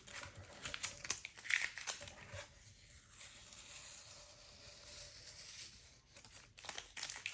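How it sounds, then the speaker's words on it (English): Tape peels slowly back off a cotton paper panel in a craft session, making faint, close, intermittent crinkling and soft tearing sounds with quiet gaps between them. "You gotta be careful when you're removing the tape because especially with these cotton panels, it can rip it"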